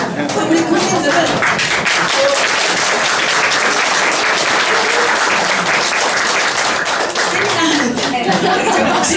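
Seminar attendees at a talk on international order and Korean unification economics clap loudly and continuously for around nine seconds, a thick, sustained burst of applause from the whole room.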